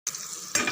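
Hot tempering is poured into a pan of lemon kara thokku and stirred in, a brief, close hiss and sizzle that surges with a second burst partway through.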